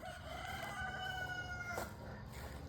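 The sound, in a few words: rooster crowing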